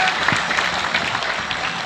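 Audience at a religious gathering applauding, a dense and steady burst of many hands clapping together for a short moment.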